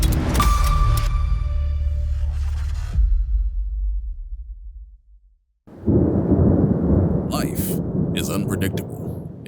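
A deep roll of thunder rumbles and slowly fades in a storm-preparedness advertisement, then after a brief silence a rushing hiss like heavy rain sets in while a voice speaks.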